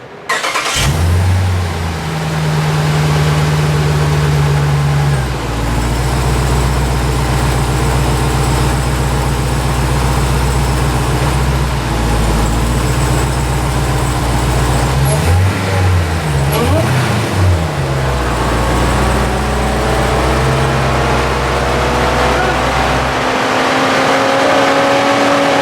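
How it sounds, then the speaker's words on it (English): A 2021 Dodge Durango SRT Hellcat, wrecked and being rebuilt, starts up and runs with a loud, steady engine drone that rises and falls as it moves under its own power, close and continuous. "Now the Durango moves under her own power. Sounds great."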